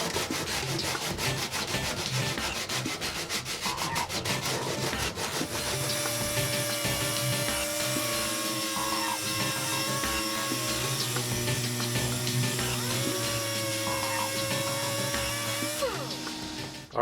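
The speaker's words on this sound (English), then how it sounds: "I'm going to start sanding it off with some 80 grit" Fiberglass on the floor of a Jeep CJ7 being sanded with 80-grit paper, a dense, continuous abrasive rasp with rapid strokes at first that settles into a steady, loud grinding whine. No one speaks.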